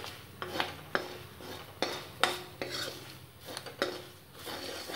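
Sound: stirring spices into roasted dry fruits in pan

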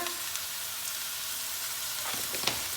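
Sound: cumin seeds sizzling in hot oil

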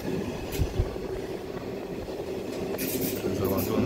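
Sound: car-carrying train to Täsch, Switzerland

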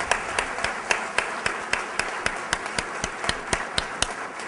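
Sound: audience applause

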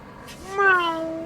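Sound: person imitating a cat meow

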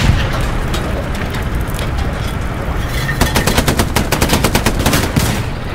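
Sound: tank firing at enemy turret in Hell Let Loose video game

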